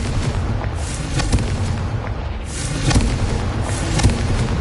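Fiery Confringo spell blasts from a Harry Potter video game boom repeatedly in a loud, dense rumble with several bursts over sustained noise, while a voice shouts the spell name.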